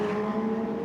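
An Audi Sport race car from Team WRT at the 24 Hours of Spa, number 6, at the bus stop chicane, giving a steady, fairly loud engine drone with a strong tonal hum and no voices.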